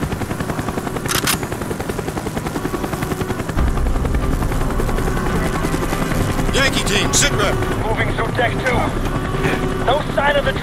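A helicopter flies in the Call of Duty Black Ops video game, its steady rotor thrum running throughout under bursts of gunfire and shouted voices, louder in the second half.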